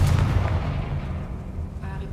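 A Confringo fire spell in Hogwarts Legacy erupts as a loud, deep explosion at the start, then a rumbling, crackling decay that fades over about two seconds.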